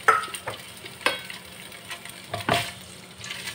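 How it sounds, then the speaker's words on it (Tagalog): Tofu (tokwa) sizzles steadily in a frying pan while cooking until golden brown, with a spatula stirring and scraping every second or so over the constant close hiss of hot oil. "In a frying pan, let's fry the tokwa first. Let's fry until golden brown."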